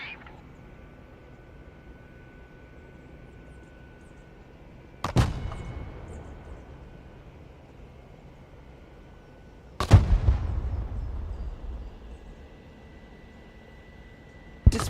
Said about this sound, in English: Mortar ready. Send mission.